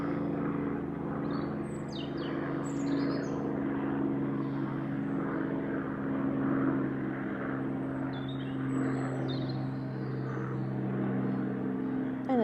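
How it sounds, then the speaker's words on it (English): An airplane passes overhead, a faint, distant steady drone lasting throughout, with birds chirping now and then. "we have a plane passing by"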